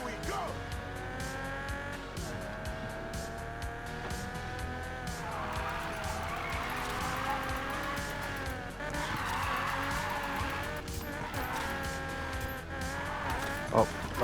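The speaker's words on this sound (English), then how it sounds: "I've never used this drift car on this account, so this might have been a bad idea" Drift car in Need for Speed Payback, engine droning steadily with tire squeal and skidding swells throughout, backed by game music, with a voice talking over it.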